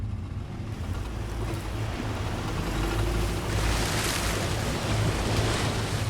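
Vehicle pushing through a fast-flowing river stream about two and a half feet deep, a continuous rumble of rushing, churning water with heavy low-end wind buffeting and no voices.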